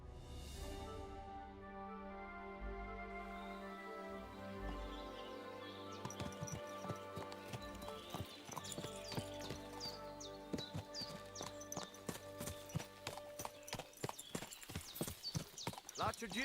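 Steady clip-clopping horse hoofbeats in a video game run in a quick rhythm under a sustained musical backdrop, with a brief whinny near the start.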